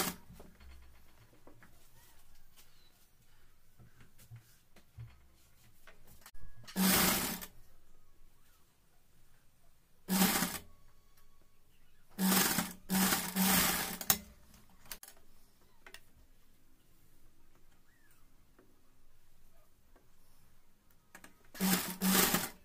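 Sewing machine stitching a newborn baby cap, with its gathered strip being joined, running in several short bursts of a few seconds each, separated by quiet pauses with no talk.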